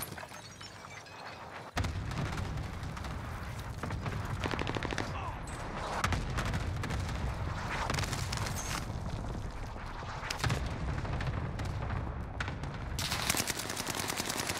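Airstrike and battle noise in Call of Duty: Warzone Pacific: dense continuous gunfire and booming blasts with heavy low rumble, loud throughout after an abrupt onset, with occasional sharper impacts.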